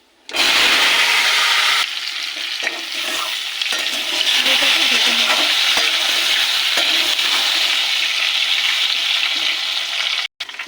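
Potatoes frying in hot oil with cumin seeds, a loud and continuous close sizzle with stirring, broken by a brief pause near the end.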